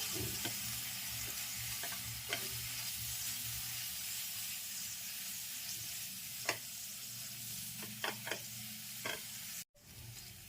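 Coriander-cumin powder stirred into masala frying in a pan for egg mukhmalli: constant close sizzle under a run of spoon scrapes and taps against the pan, no voices.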